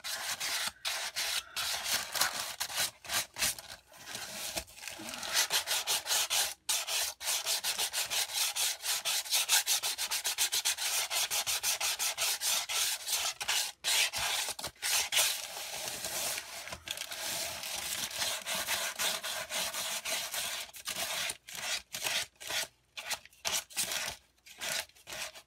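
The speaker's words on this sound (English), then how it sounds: "Sand the edges smooth." Rapid, rhythmic rasping of sandpaper rubbed back and forth along the edge of a composition notebook, close up and steady, with a few short breaks between strokes.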